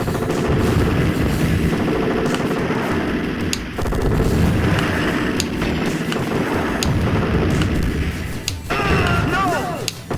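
Loud, dense gunfire from a light gun arcade shooter on an AtGames Legends Ultimate cabinet, with rapid repeated shots and heavy booms running almost continuously, broken by a short lull.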